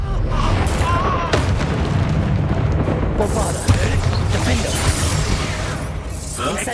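A Bombarda blasting spell goes off in Hogwarts Legacy during a fight in a cellar, a loud booming burst inside a dense wash of combat effects, with a voice talking over it.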